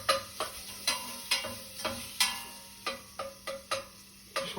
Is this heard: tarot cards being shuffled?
no